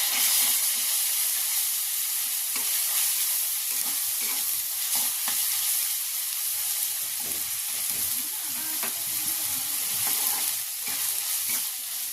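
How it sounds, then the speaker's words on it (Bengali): Steady sizzling of ginger-garlic paste frying in a pan, with a spoon stirring and scraping in irregular bursts throughout. "ভালো করে নাড়াচাড়া করে আদা রসুনটা ভেজে নেব"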